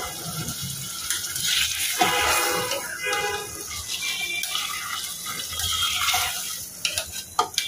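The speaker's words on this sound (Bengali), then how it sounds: "এখন মাংসটা দিয়ে দিব। লবণ দিয়ে দিই" Meat goes into a pan of deeply browned fried onions and is stirred, with a loud wet sizzle and splashing, scraping turns throughout and a few sharp clatters near the end.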